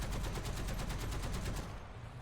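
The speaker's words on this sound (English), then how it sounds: "this is so much ammo that we put into that one little bitty yak" Rapid anti-aircraft fire from a T77E1 self-propelled gun in War Thunder, a dense, loud, evenly paced burst of shots that ends abruptly, leaving a dull rumble behind.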